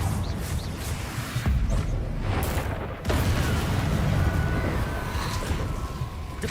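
Booming blasts of the Confringo explosive spell in the game Hogwarts Legacy, loud rumbling explosions overlapping in a continuous dense roar with a brief dip partway through.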